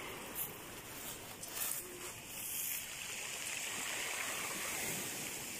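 Steady wash of sea water at a calm shore, a continuous broadband rush with small swells, heard alone at moderate level.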